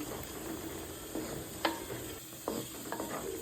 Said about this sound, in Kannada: ಕೊತ್ತಂಬರಿ ಸೊಪ್ಪನ್ನ ಹಾಕಿ ಚೆನ್ನಾಗಿ ಮಿಕ್ಸ್ ಮಾಡ್ತಾಯಿದ್ದೀನಿ